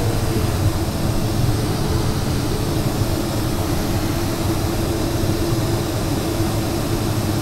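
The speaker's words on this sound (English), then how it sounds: "speed flying and how the sound of the noise of the glider behaves" Steady, loud rushing wind noise inside the cockpit of an 18 m AS33 sailplane during a high-speed glide with flap setting 1, an even broadband roar holding without letup.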